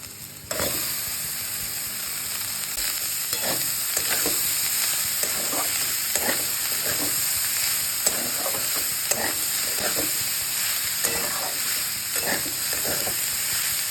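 Leftover cooked rice fries in a pan, sizzling steadily while a spatula scrapes and stirs it in a run of irregular clicks and knocks, close and continuous with no talk.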